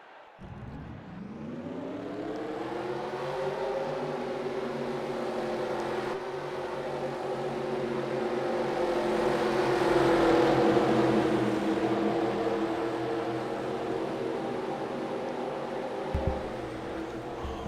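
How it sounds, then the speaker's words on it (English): Stock car engines in a NASCAR-style racing video game, many cars firing up together for the race at Iowa into a steady, loud, droning roar that swells slightly midway and holds with no voices over it. "Drivers, start your engines!"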